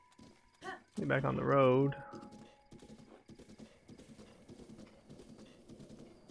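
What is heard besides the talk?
horse hooves clip-clopping while riding in Zelda: Breath of the Wild video game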